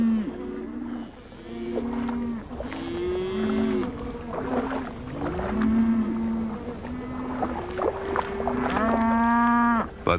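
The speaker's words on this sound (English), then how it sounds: "Cattle now overgraze the fragile land and guzzle at the water holes" Cattle moo repeatedly at desert water holes in Arizona, several drawn-out, loud lowing calls rising and falling one after another over a faint steady hum.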